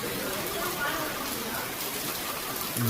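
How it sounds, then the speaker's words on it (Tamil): Heavy monsoon-style rain pours near a house, a constant, even hiss of water falling all around, steady and moderately loud throughout. "வீட்டாண்ட பயங்கரமான மழை பாருங்கள்"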